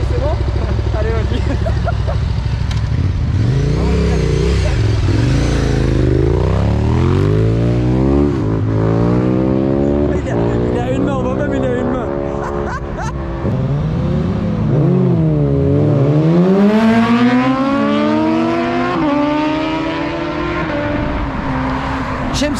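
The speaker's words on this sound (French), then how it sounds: "Steve, c'est quoi ta moto? La 980 TTMT" A 980 TTMT motorcycle revs hard and pulls away, loud engine pitch climbing through repeated gear rises and falls, close and continuous, with speech mixed in.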